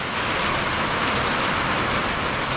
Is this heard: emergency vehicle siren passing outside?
no